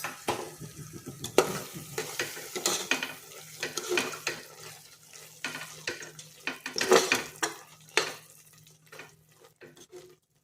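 A spoon stirs carrot halwa with ghee, cashews, almonds, raisins and cardamom powder in a pressure cooker pot, making repeated scraping clinks and soft sizzling strokes at close range in an irregular rhythm.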